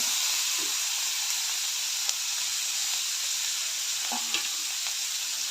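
Onion sautéing in a pan for a quick dal, an even, continuous sizzle and hiss with a few faint stirring clicks, close and unaccompanied by voices.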